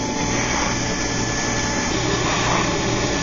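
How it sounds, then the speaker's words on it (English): Single-flute 2 mm end mill cutting about a tenth of an inch deep, a constant loud high-pitched whine of the spindle and cutting that holds steady throughout, close and without talk. "Right now I'm going down about 100 thousandths deep with a single fluted end mill."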